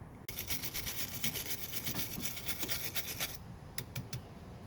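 A battery terminal clamp on a 2017 Toyota Tacoma gets scrubbed clean of corrosion with a tool, a close, steady rasping scrape of quick back-and-forth strokes that stops abruptly near the end.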